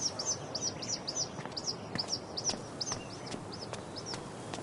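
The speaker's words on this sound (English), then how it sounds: "I wonder if this is the bird that woman is looking for." A bird in the game Life is Strange: True Colors gives a steady series of short, bright, repeated chirping calls at an even rhythm, mixed with soft clicks over a quiet ambient background.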